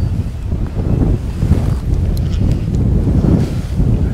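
Strong wind buffets the microphone at Island Lake, a fishing lake at Hayfield Lakes, producing a loud, continuous low rumble with gusty swells throughout.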